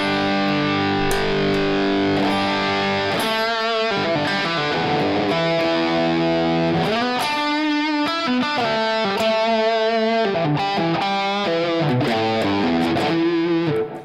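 Electric guitar run through three stacked overdrive pedals into a single amp, a loud, saturated distorted tone with sustained chords and ringing single notes played continuously without talk.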